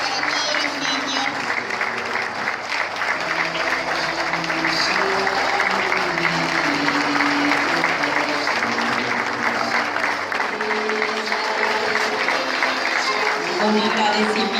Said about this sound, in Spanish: Fuerte el aplauso para todos los niños.